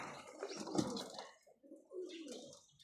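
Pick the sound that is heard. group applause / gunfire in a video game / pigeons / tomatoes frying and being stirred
pigeons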